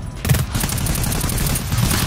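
Rapid gunfire from a weapon in the modded video game GTFO, level C1, a dense continuous burst of shots lasting about two seconds, loud and close with no pauses.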